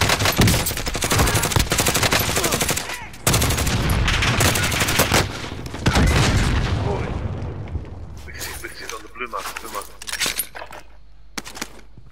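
Video game gunfire crackles in rapid bursts and single shots, with booms and machine-gun rattles. It pauses briefly near the midpoint, then thins out to scattered shots toward the end, with players talking over the action.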